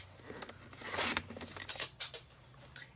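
Scissors or a trimmer cut half an inch off a paper card for a waterfall card photo album: a close, continuous rasping slice with quick crisp snips, steady and moderately loud for about three seconds.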